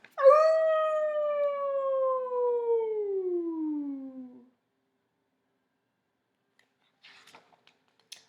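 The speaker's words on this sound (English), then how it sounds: "He howled instead very loudly." A dog's long, loud wailing howl slides slowly downward in pitch for about four seconds, then gives way to near silence with faint small noises.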